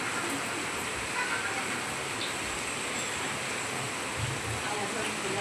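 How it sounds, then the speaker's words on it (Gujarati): Heavy rain falls outside, making a dense, even hiss that stays steady throughout, with faint voices underneath. "કેવો વરસાદ આવે છે"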